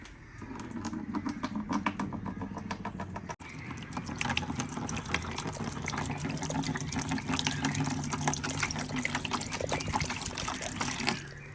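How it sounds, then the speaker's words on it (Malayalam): A steady stream of one litre of water pours and gurgles into a basin for several seconds, briefly pausing once before continuing, no voices. "ഒരു ലിറ്റർ വെള്ളം ഫുള്ള് നമ്മൾ അതിലേക്ക് ഒഴിച്ചു കൊടുത്തു"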